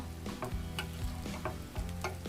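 Green gram paniyaram frying in a pan while being turned, steady close sizzling broken by a few short scraping and tapping sounds.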